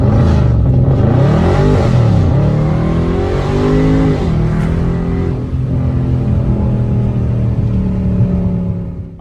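A Dodge Charger or Challenger launching hard with launch control, its loud engine revving and climbing through the gears, close and continuous with no talking.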